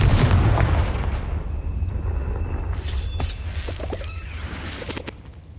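Booming explosion from the Confringo fire spell in the Hogwarts Legacy video game, a loud low rumble that rolls on under a dense wash of battle noise, with a brief crackling burst partway through.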